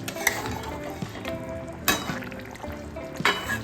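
Fish pieces fry in a pan of oil, making a steady sizzle broken by sharp clinks and scrapes of a utensil against the pan, with a few louder bursts as pieces go in.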